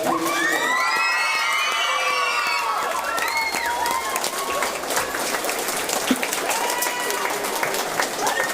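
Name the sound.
crowd applause and cheering after a camogie final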